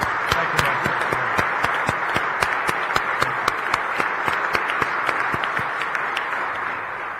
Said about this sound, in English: Let's give him a round of applause and thank him for that